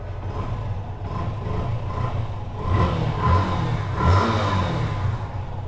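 A Yamaha FZ V2 motorcycle engine idles and revs in a few rising swells, a steady low rumble that surges louder twice near the end.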